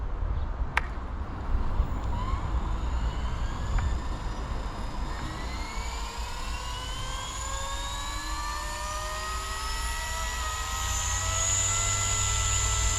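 A Blade 235 CP radio-controlled helicopter's electric motor spins up, a steady whine whose pitch climbs in several rising tones over a constant low rumble, close and fairly loud throughout.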